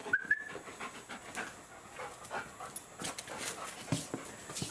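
A dog pants and whimpers close by, with soft, uneven breathy bursts running throughout and a couple of brief high whines near the start; no talking.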